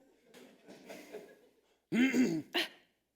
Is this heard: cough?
yes